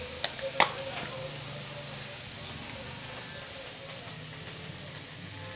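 Garlic paste hits hot oil in a pan while cooking egg masala, giving a soft, steady sizzle after a couple of sharp clinks at the start, low in level and even throughout.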